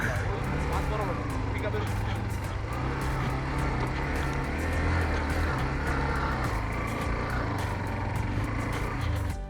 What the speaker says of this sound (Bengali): আমার নিজের বাইক নিয়ে এখন পাহাড়ে উঠবো